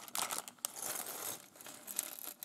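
A plastic Lego polybag for the Marvel Spider-Man set 30443 is torn open, giving a quiet, close, continuous crinkling and rustling of thin plastic with no talking.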